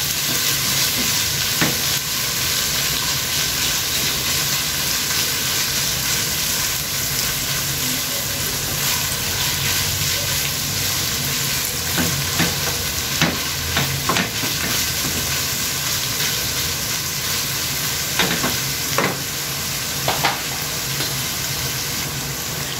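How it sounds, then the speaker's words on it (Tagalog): Ground pork fries in oil for cheesy spaghetti, a continuous close sizzle under scattered scrapes and clacks of a spatula stirring the pan, with no talking. "yung ating pork giniling ay nagmamantika na at nasangkot siya na ng mabuti, halo ko muna"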